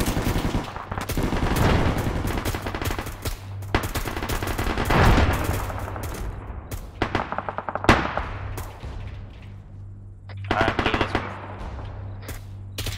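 Bursts of machine gun fire from a gun team during a special operations platoon assault on an insurgent encampment: loud, close, rapid automatic strings repeating with brief pauses and echoing tails between volleys.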